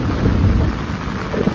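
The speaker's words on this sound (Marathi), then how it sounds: "फुल विजांचा कडकडाट आहे." Heavy monsoon downpour in Konkan with a thunderstorm overhead, a dense, steady roar of rain with deep low rumbling underneath, loud and continuous throughout.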